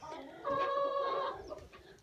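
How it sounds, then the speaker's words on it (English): A backyard flock of eight chickens clucks in a barn coop, one hen giving a drawn-out squawking call close by, with softer clucks around it. "We have 8 chickens"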